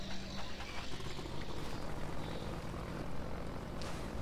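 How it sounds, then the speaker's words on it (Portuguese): Combine troop-transport aircraft in the video game Half-Life 2, flying overhead with a steady, loud engine roar and airy rush that holds throughout. "Tipo esse avião aí que transporta soldiers, Combine soldiers."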